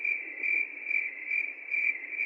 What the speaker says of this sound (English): Somebody kill those fucking crickets, man!